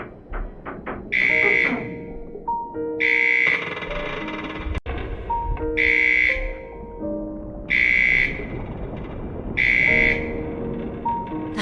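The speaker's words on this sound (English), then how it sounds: "That alarm. It's surely the rescue helicopter coming." A repeating electronic alarm sounds in the video game Return to Mysterious Island 2, five loud pulsed bursts roughly every two seconds over a steady tonal background, with a sharp click midway and no talking.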